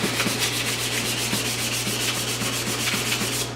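A motorcycle exhaust being sanded to take out scratches gives a loud, continuous rubbing and sanding rasp in quick repeated strokes, close up and with no talk.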